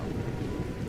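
Rain and thunder from the True Storm mod in the video game Skyrim, a dense steady hiss of heavy rainfall with a low rumbling undertone, loud and continuous.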